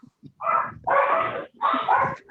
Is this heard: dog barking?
yes